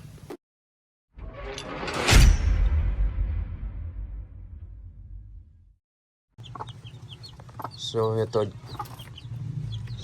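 Three-day-old chicks peep up close in short bursts of high cheeping, mixed with rustling and handling noise and split by brief silent gaps.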